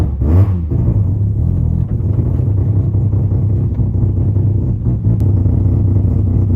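A Mazda RX-7 FD3S with a 13B rotary engine and six-speed gearbox pulls away on a feathered clutch with no throttle, giving a steady, loud, close low rumble throughout.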